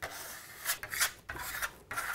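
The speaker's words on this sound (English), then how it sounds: "scrape off the excess plaster." A steel trowel scrapes excess Venetian plaster off a wall in several rasping strokes, each a steady close scrape broken by brief pauses as the blade changes direction.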